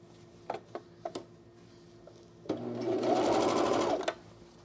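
An overlocker sews a pocket seam: a few sharp clicks of handling first, then a loud, close, rapid stitching burst lasting about a second and a half.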